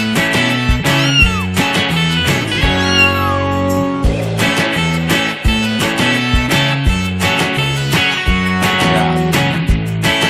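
Repeated cat meows ring out over steady background music, about ten seconds of clear, close calls rising and falling.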